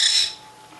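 An owl in a birds-of-prey display lets out a single brief, harsh screech as it flies over. The call is loud for a moment, then fades quickly into near quiet.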